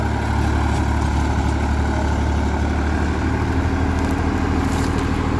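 An eight-year-old Massey Ferguson 245 DI tractor engine idles close by, a steady, dense diesel rumble with an even mechanical chatter and no breaks.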